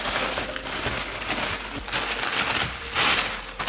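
Paper packing around PC parts crinkling and rustling continuously, close by, with busy crackly handling noise throughout and no talking.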